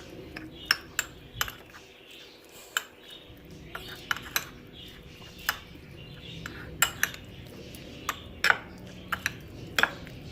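A spoon clinking against a bowl while mixing ingredients for a chicken pizza, irregular light metallic taps scattered over several seconds, close and fairly quiet.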